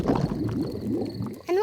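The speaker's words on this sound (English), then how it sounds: "My tummy rumbling is one of the best sounds of nature." Daddy Pig's tummy rumbles with a low, gurgling, bubbling growl that rolls on for a moment up close, before a voice begins speaking at the end.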